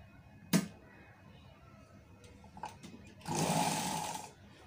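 Sewing machine stitching a finishing seam along the folded edge of a front-open frock neckline, one short sharp burst early on, then a steadier whirring run of about a second near the end, fairly quiet with no talk.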